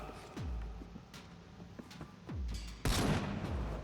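Shotgun blasts in the vampire action game Vampyr: two heavy booming shots with low decaying tails, then a louder, denser burst of fire near the end, all close and forceful without speech.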